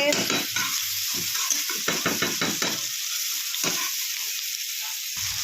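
Spice masala frying in a pan for a Sindhi dish, a steady close sizzle with a few stirring scrapes and clinks and no talking.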